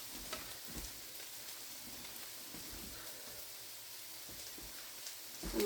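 Food fries in a pan, a soft steady crackling sizzle with scattered pops, fairly quiet and uninterrupted by talk.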